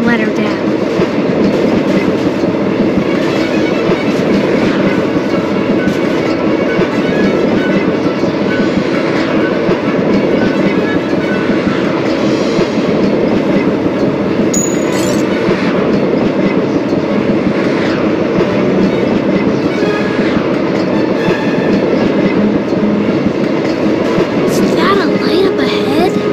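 A steam train in The Polar Express video game rumbles along the rails in a loud, unbroken roar with a faint clickety-clack, and a brief squeal or hiss near the middle.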